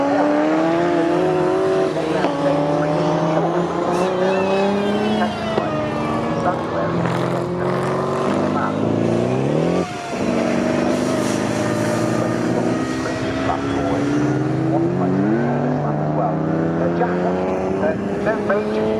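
Jaguar race cars lap the Snetterton circuit, engines rising and falling in overlapping passes with pitch sweeps as they accelerate and brake, loud and continuous beneath a commentator's voice.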